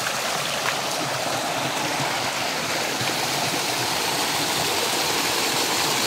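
A river current rushes steadily over rocks in a place of unusual rock formations lined with balete trees, a continuous close wash of broadband water noise with no talk.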